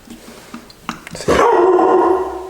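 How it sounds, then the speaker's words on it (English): A dog barks close and loud inside a garage where a Suzuki GZ250 motorcycle is being worked on: a few soft yips, then one sharp, sustained bark that rings out. "Guard dog."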